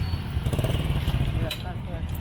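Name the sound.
motorcycle engine running with turbo on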